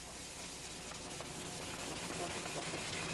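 Steady, quiet sanding rubs over a surface, knocking it down to a dull finish and taking out small scratches; the even abrasive hiss runs continuously without pauses or voices.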